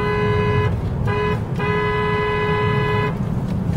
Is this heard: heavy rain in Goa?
no